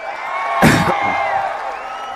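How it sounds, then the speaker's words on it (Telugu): Crowd at a political rally bursts into loud clapping and cheering, a sharp swell of applause and shouts that peaks quickly and then settles into a sustained roar under a continuing voice. "ఆపలేవని గట్టిగా చప్పట్లు కూడా చెప్పండి"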